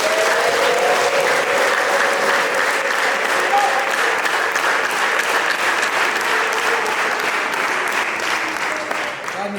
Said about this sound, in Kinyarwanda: tuyikomere amashyi.